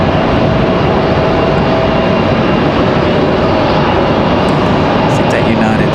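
A United airliner taxis at Raleigh Durham airport, its engines making a loud, steady, broadband roar that fills the whole clip from close by.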